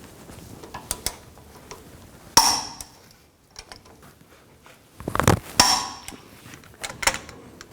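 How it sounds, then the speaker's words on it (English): Torque wrench tightening the front brake caliper bracket bolts on a 2007-14 GMC Sierra 3500HD, giving intermittent ratcheting clicks and a few louder metallic clanks and clunks, close up with no talk. "Now I'm going to torque these bolts to 221 foot-pounds."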